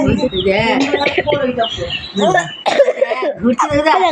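Loud, close bursts of coughing come in quick succession, mixed with laugh-like and squeaky vocal sounds and short pauses between them.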